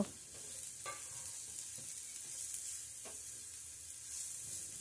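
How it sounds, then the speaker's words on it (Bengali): Chopped onion stirred and fried in a pan, a faint, steady sizzle with a few soft scraping strokes of the spoon, with no one talking. "এবার এর মধ্যে দিয়ে দিচ্ছি পেঁয়াজ কুচি। পেঁয়াজ কুচি দেওয়ার পর আর একটু হালকা করে নেড়ে চেড়ে নেব।"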